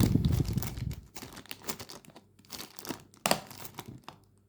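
Crinkly plastic rustles and crackles in irregular bursts, close by, as a 1:48 scale model kit part is pulled from a plastic bag, with brief pauses between handling sounds and no talking.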